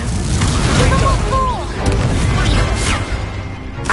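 Explosive booms from the Confringo fire spell in the Hogwarts Legacy video game burst out repeatedly amid game effects, with someone speaking over them.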